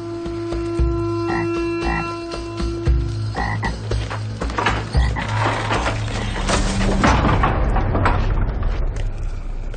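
Frogs croak over and over at close range in a dense, overlapping chorus that grows busier and rougher toward the end, set against a low steady drone.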